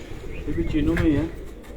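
A Cheena breed pigeon, kept at a pigeon fancier's home, gives one short, low throaty coo nearby, with a human voice also present.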